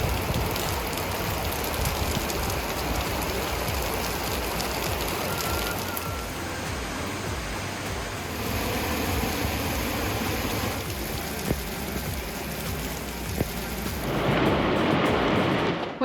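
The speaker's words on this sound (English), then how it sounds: "The skies have just opened up on us and it is torrential downpour with thunder and lightning." Torrential rain pours down in a thunderstorm on a river walk in Orizaba, Veracruz, a dense, steady roar of rainfall close to the microphone throughout, swelling briefly near the end.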